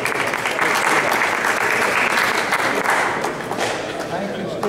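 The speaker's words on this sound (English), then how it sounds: "So the Wills, give a round of applause." A Greenville Tea Party meeting audience gives a round of applause, a loud, dense burst of many hands clapping that swells early, holds, then eases slightly toward the end, with scattered thumps in the crowd.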